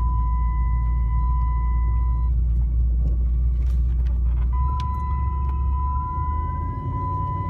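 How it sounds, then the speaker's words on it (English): Cammed, supercharged Dodge Challenger SRT8 with a Kenne Bell 3.6 blower, accelerating with its wheels spinning on wet pavement. A deep, steady engine rumble runs under a thin, sustained supercharger-like whine, close and loud throughout. "Literally at a quarter throttle, the vehicle will start to spin."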